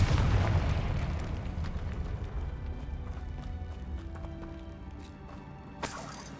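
A fiery blast from the Confringo explosion spell in Hogwarts Legacy bursts loudly at the start, then rumbles and fades into a lingering game ambience, with a small sharp pop near the end.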